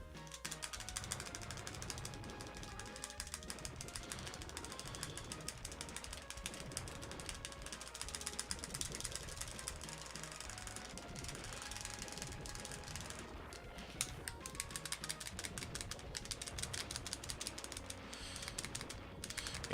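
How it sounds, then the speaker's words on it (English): Rapid, continuous clicking from the buttons of a third-party game controller while Street Fighter 2 Turbo is played. The presses rattle steadily throughout, faint against game music and sound effects. "You guys can probably hear the clicking on my buttons in this stream"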